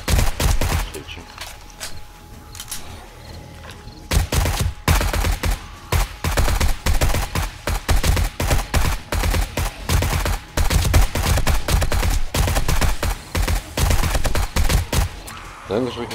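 Repeated rifle and automatic gunfire in the zombie survival game 7 Days to Die, sharp shots in quick irregular bursts with pauses between, under occasional player talk.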